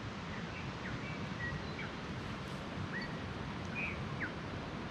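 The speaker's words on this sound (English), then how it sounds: "There's heaps of birds" Scattered bird chirps and whistles ring out faintly across a mountain valley over a steady wash of outdoor noise, like distant water or wind.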